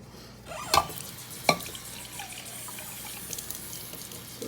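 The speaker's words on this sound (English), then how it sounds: "We're gonna add 1/4 of a cup of water." Water, a quarter cup, is poured and splashes onto chiles, tomato and a garlic clove, with two sharp knocks early on and then a soft ongoing trickle and slosh close by.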